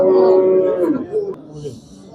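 At a Qo'qonboy livestock market, a barren cow gives a long, drawn-out moo up close, fading into crowd murmur and people talking nearby.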